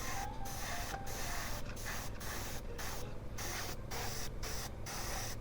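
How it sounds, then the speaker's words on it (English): Airbrush laying down a heavier overspray of Vallejo paint for an oak leaf autumn camouflage, a steady close hiss of air and paint that runs continuously with brief breaks. "if we just give it a heavier overspray"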